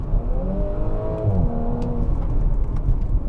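A petrol Audi S4 Avant engine in dynamic mode revs up with a rising, throaty growl, then settles into a steady rumble nearby.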